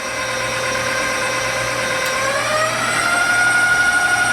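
An electric mixer beating cheesecake batter at a higher speed makes a loud, steady motor whine with a constant mechanical hum, close up and unbroken throughout, with no talking.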